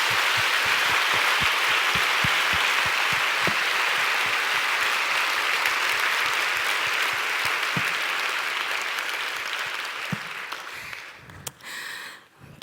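Sustained applause from a congregation at a Korean church prayer meeting, loud dense clapping with a few rhythmic claps standing out, tapering off near the end as other sounds take over.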